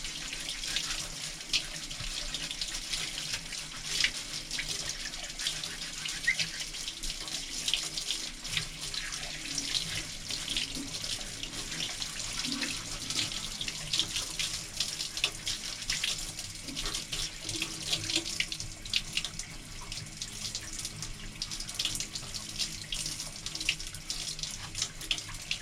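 Tap water runs steadily into a sink while a paint bucket and lid are washed out, a continuous close rushing splash with small shifts as the bucket moves under the stream, no talking.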